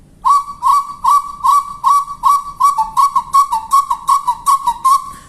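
A wooden birdcall whistle imitates the capoeira wood-quail (Odontophorus capoeira) in a long run of short, loud whistled notes. The notes repeat rhythmically and speed up slightly toward the end, with no speech.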